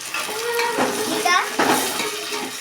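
Tomatoes being stirred in a hot frying pan, with a close steady sizzle and scraping of the spoon against the pan.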